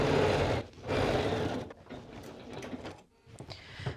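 A sewing machine runs a line of stitching on a Cashmerette Kimball bomber jacket, whirring in close bursts that pause briefly and restart.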